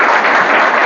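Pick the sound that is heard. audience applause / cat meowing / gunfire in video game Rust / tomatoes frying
audience applause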